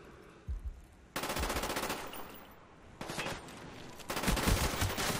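Video game gunfire: loud sustained automatic bursts of rapid shots, broken by short gaps, growing denser toward the end with heavy low thumps, without speech.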